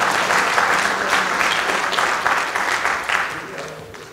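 Audience at a Korean council launch ceremony in New Zealand applauding, a dense, steady round of clapping close by that tapers slightly toward the end.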